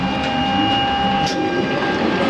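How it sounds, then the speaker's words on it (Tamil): A tram pulls away from a station in Germany, producing a loud, steady rumble with a sustained tonal whine, heard up close and continuous throughout. "ட்ராம் அப்படியே போயிட்டுருக்கு பாருங்கள்."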